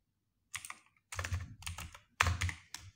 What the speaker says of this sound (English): So we are going to type here email